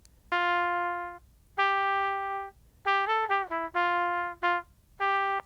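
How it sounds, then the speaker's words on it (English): Guitar melody converted by AI into a synthetic trumpet tone: separate sustained brassy notes and a quick run of short notes, clean and close with gaps of silence between phrases. "It's converting my audio into a trumpet sound."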